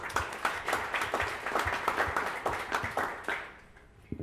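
Modest applause from a small panel audience at a printmaking summit, distinct individual claps in a loose irregular rhythm that thin out and fade away near the end.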